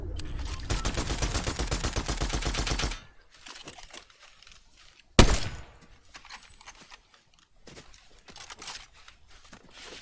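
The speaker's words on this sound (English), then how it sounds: "these shots behind me indicate that there was someone behind me that whole time" Gunfire in Fortnite Zero Build: a rapid automatic burst for about three seconds, a sharp loud single shot, then scattered fainter distant shots and footstep-like clicks.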